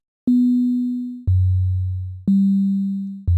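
Four synthesized notes with randomly chosen pitches between 40 and 60, each a steady pure tone that starts sharply and fades slightly over about a second, alternating higher and lower, with no voices.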